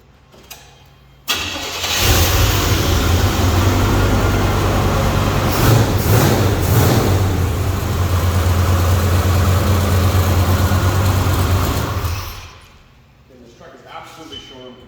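A pickup truck engine cranks and fires up, then settles into a loud, steady idle for several seconds before cutting off abruptly.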